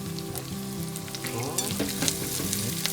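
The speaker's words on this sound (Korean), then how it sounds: "이제 파기름과 고기에 집중을 하고자 합니다. 센 불에다가 조리를 할게요." Meat frying in scallion oil in a pan over high heat sizzles loudly and steadily, with crackling pops and occasional stirring, close up and with no speech.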